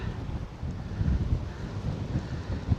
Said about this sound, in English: another very windy day here.